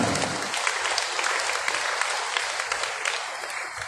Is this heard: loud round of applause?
yes